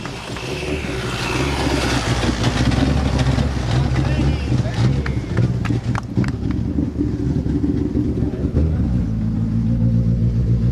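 A rally car passing on the Lameirinha stage of the 2021 Rally Serras de Fafe e Felgueiras, a loud, close engine roar with shifting rumbling pitch that rises and fades as it goes by.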